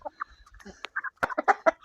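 Chickens clucking close by, a run of short, choppy clucks that grows busier and louder toward the end.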